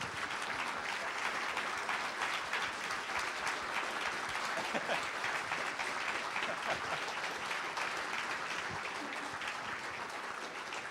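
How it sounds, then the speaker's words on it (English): A full audience applauds volunteers at a school winter evening show, steady and dense clapping throughout with no break, the occasional voice buried in it. "Let's give a big round of applause for all of our volunteers."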